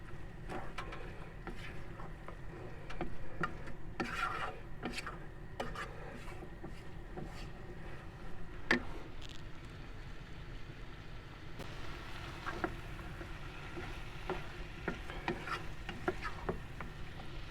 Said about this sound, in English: just a couple of minutes of frying off with the curry paste, stirring it up as you go